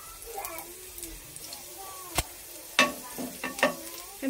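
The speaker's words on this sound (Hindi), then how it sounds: "तेल गर्म हो चुका है, इसमें हम कुछ किया हुआ लहसुन डाल देंगे" Garlic sizzles softly in hot oil in a pan with scattered sharp clinks of a utensil stirring, while a nearby voice speaks in Hindi over the frying.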